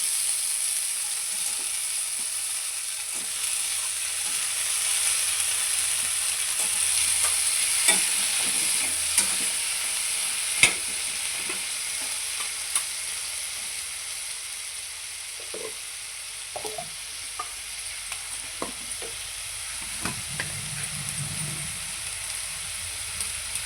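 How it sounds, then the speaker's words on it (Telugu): Tomatoes for a coriander tomato chutney fry in a pan with a soft continuous sizzle, while a spoon scrapes and clicks against the pan in scattered strokes; no one speaks. "వేగిన తర్వాత టమాటాలు వేసేసుకోవాలి."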